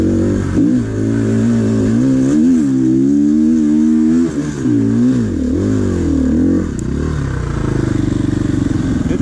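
A motorcycle fitted with Mitas EF-07 tires revs loudly and close, its engine note rising and falling in repeated swells with some clatter, while a voice speaks briefly over it.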